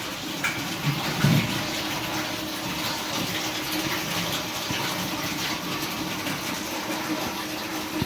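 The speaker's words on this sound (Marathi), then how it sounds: "एवढं पाणी हे बघ बेसिंग मध्ये किती वायाला चाललं" Water runs steadily into a kitchen sink basin, a close, continuous splashing gush with a brief clatter near the start and no speech.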